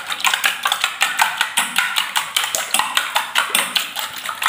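Beaten chicken eggs whisked briskly in a bowl: a steady rapid rhythm of light clicking and tapping strokes against the bowl, close and continuous, with no voices.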